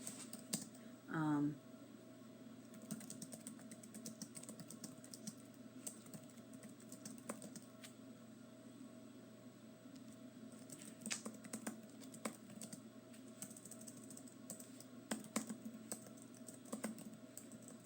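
Typing on a computer keyboard taps along steadily for the whole stretch, close by and fairly quiet over a low constant hum, with a short louder noise near the start.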